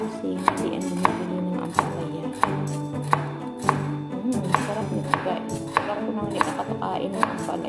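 Knife chopping through ampalaya (bitter gourd) and sliced pork on a board, steady loud rhythmic thuds of roughly two strokes a second, with faint ringing between cuts and no talking.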